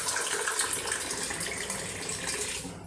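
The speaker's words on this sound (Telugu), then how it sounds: "నేను ఇప్పుడు దీంట్లో ఒక 2 గ్లాసెస్ వాటర్ పోస్తున్నాను ఫ్రెండ్స్." Two glasses of water poured into a pan of homemade paneer, a steady close splashing gush that runs for the whole moment with no talk over it.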